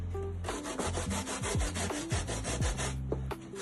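Potatoes are grated by hand on a grater for Jamaican potato pudding, producing close, steady rhythmic rasping strokes, about two per second, with no voices.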